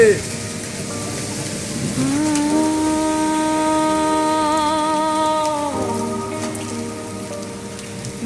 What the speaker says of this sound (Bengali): বরফ পড়ছে, বরফ পড়ছে, সিল পড়ছে।